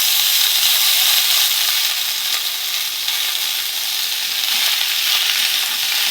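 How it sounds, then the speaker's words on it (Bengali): Spring onion stalks and potatoes frying in hot oil in a home kitchen, a loud, steady, dense sizzle with hiss and faint crackle throughout, no voices. "এবারে কেটে রাখা পেঁয়াজ কলি আর আলু দিয়ে দেবো তেলের মধ্যে।"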